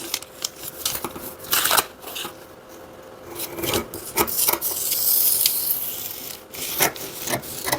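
Scissors snip and rasp through fabric while a box pleat skirt is cut, with repeated close crunching strokes and sliding rubs at an uneven pace and no talk.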